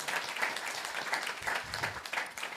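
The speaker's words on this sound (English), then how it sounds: "a round of applause for Felekish." Audience applause at a community meeting, a steady patter of many hands clapping close by that carries evenly through the whole stretch with no voices over it.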